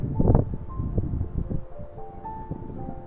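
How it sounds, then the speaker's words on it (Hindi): Strong, cold wind sweeps through trees at the Chandpur Garh fort in Chamoli, Uttarakhand, making a steady, gusty low rumble that buffets the microphone throughout, with no voices. "बहुत ही ठंडी हवा चल रही है"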